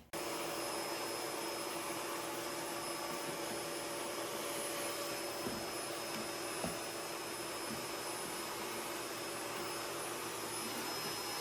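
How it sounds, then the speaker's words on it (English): A vacuum cleaner runs continuously while cleaning a bathroom, producing a loud, steady roar with a high whine and occasional soft knocks as the nozzle bumps surfaces. "I think the vacuuming is probably the most satisfying part for me"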